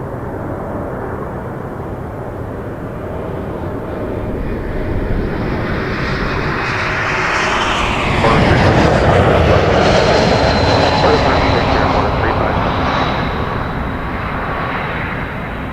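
A jet airliner on final approach to Toronto Pearson Airport roars steadily, swelling louder toward the middle as it passes close, then easing off, with a constant broadband rumble throughout.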